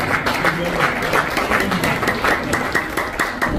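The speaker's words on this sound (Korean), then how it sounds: "나오실 때 큰 박수를 부탁드리겠습니다" A lecture hall audience at a Korean-American Christian business leaders' New Year gathering claps for a guest speaker coming to the stage, the dense applause steady throughout with some voices mixed in.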